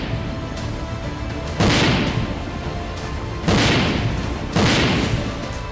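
Russian artillery strikes in Ukraine: three heavy, booming explosions, each a broad rumbling blast, rise above a constant noisy background at a distance.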